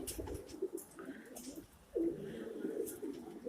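Pigeons of mixed breeds coo softly inside a coop, a few low throaty calls rising over steady background noise at moderate distance.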